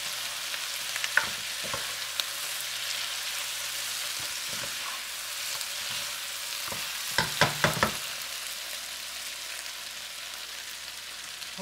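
Chinese spicy pork belly sizzles and fries steadily in a thickening sauce in a pan, with a few sharper stirring scrapes and clinks scattered through, the strongest cluster near the end; no voices.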